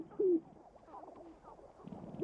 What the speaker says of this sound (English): A low cooing sound, amplified by inflatable air sacs, provides the accompanying tune.